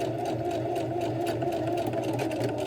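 A sewing machine running a straight stitch on a dress, with a steady close mechanical whir and rapid needle chatter, alone and unbroken.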